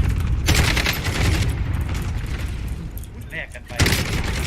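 Gunfire rings out from a tower in the Call of Duty Warzone video game, bursts of rapid shots and booms over a dense, loud battle din, with a player talking over it.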